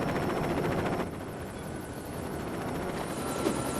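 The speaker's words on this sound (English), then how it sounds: "police need their aircraft as well, and in this case, this is the Chopper" Police helicopter called the Chopper in the video game LEGO City Undercover, a steady rotor and engine drone that stays loud and continuous throughout, dipping slightly after the first second.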